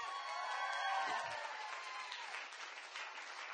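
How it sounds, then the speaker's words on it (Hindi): Audience applause at a direct-selling business event, steady and fairly faint, with a voice briefly heard under it. "ताली बजाना है तो दमदारी वाली बजाओ जलन वाली मत बजाओ"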